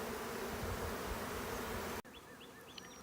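Honey bees swarm around a newly installed nucleus hive, giving a dense, loud, close buzzing that fills the first two seconds and then cuts to a quieter scene with a few faint chirps.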